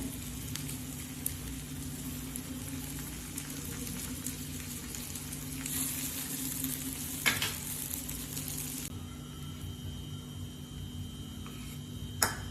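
Jowar flour thalipeeth fries in butter on a pan, a steady close sizzle with a faint hum under it, briefly louder near the middle, and no voices.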